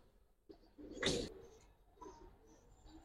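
A pigeon gives a soft, brief coo close by in a quiet setting among giribaz and other pigeon breeds kept for sale, followed by fainter murmurs.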